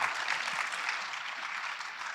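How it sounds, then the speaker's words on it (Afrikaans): Audience applause at a cultural festival gathering, a dense, steady wash of clapping from a crowd that holds evenly and fades slightly toward the end, with no talk over it. "Kom ons gee sommer weer vir die twee mense lekker hande klap"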